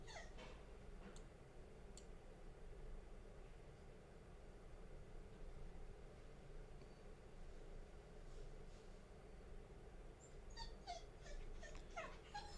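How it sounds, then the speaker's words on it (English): A dog whimpers softly behind a shut door, faint and intermittent over a steady low background hum, with a few sharper high cries near the end. "The door's shut, so he's whimpering."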